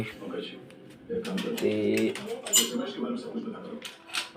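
Soft pigeon cooing sounds close by amid background chatter and a few light clinks.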